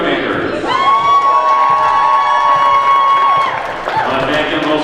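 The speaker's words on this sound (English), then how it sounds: "A big round of applause for the Marshall Columbus Dogs and the Nakusa Paper Makers" A crowd at a girls' basketball tournament cheers, whoops and applauds for two teams, the Marshall Columbus Dogs and Nakusa Paper Makers, loud and close, with shrill children's shouts and voices rising over the clapping.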